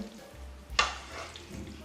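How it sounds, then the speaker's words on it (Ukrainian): A brief scraping clink of a spoon stirring spaghetti with tuna in a pan, with a soft sizzle in the background and no talking. "Пасту перемішую. І я перемішую ложкою"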